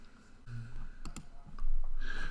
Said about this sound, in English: So I just click that and it's going to add it.